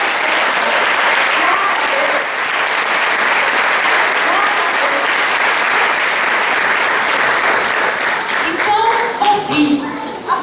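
A church congregation bursts into loud, sustained applause that holds steady for several seconds, then thins and breaks up into scattered claps and murmuring voices near the end.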